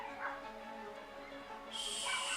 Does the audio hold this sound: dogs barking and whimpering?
yes